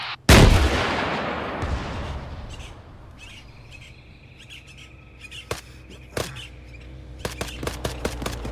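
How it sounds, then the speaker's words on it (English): In the video game Arma 3, a rocket launches with a loud near blast at the start, followed by a long fading rumble and scattered distant bangs and shots amid chirping birds. "Rocket, rocket, rocket."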